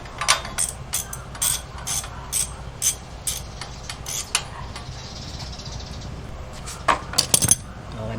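A hand ratchet clicks rapidly while the last bolt comes off an exhaust header on a 675NK during a swap from the stock exhaust to a full system. The metallic pawl clicks come in close, repeated bursts with gaps between them, and there is no talk.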